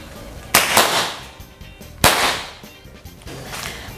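Two sharp air rifle cracks about a second and a half apart ring out at a shooting competition, each with a short decaying tail, followed by a fainter third pop near the end.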